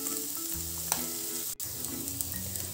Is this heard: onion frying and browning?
yes